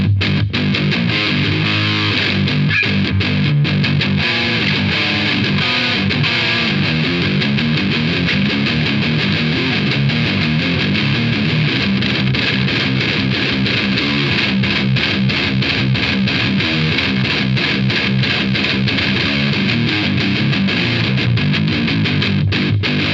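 A 7-string guitar plays through a Moen Dragon Roar distortion pedal, giving a dense, heavily saturated and continuous tone with chugging riffs, loud and steady throughout.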